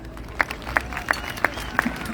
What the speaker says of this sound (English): a big round of applause for Naarm